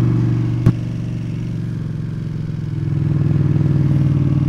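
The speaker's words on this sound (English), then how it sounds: "it's that classic two-cylinder V2 sound of Ducatis" A Ducati V-twin motorcycle engine idles with a deep, lumpy throb, a single sharp click early on, then revs up slightly louder and steadier toward the end.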